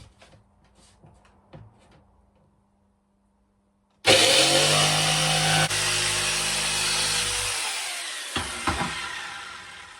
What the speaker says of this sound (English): The next bit I need to cut out is the awkward shaped top